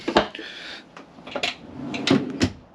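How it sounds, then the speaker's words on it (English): A drawer in the kitchen of a 2023 Coachman Laser 545 Xtra caravan is opened and shut, giving a few sharp knocks and sliding rattles close up in a quiet interior. "drawer below"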